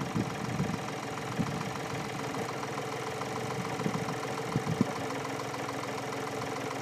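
VW Polo 1.4 TDI diesel idling with the clutch pressed and a failing dual mass flywheel: a steady, close mechanical drone with rhythmic knocking clatter and a few sharper knocks, with no talk.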